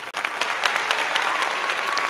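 Applause sound effect, a burst of many hands clapping at a steady, dense rate, fairly loud and close, continuing without pause for about two seconds with no voices.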